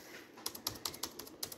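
Quick, light keystrokes on a laptop keyboard during a repair check, about a dozen soft clicky taps in an uneven rhythm, faint and close, with no one speaking.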